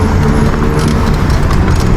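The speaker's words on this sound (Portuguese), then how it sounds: "E a bike continua com barulho" A Viking X motorbike runs with a strange noise: a loud, close engine drone with a rough, rapid knocking rhythm running through it.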